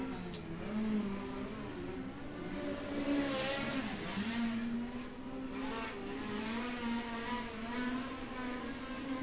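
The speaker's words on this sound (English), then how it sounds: "Final 2 cars on the raceway now." Race cars on a raceway at Mount Gambier give a steady engine drone with shifting pitch as they run, continuous and moderately distant, with no one talking.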